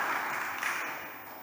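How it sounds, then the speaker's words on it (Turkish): Standing ovation from the audience at the Academy of Athens award ceremony, a steady wash of many hands clapping at a distance, even and sustained, fading slightly toward the end. "Atina Akademisi'nde ayakta alkışlandı Profesör Haberal."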